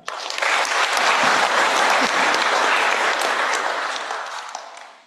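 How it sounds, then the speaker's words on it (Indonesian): Loud, dense applause from a large audience at a civil-servant (PPPK) swearing-in ceremony of Indonesia's Ministry of Religious Affairs, swelling quickly and holding steady for about five seconds before tapering off. "Tepuk tangan dulu."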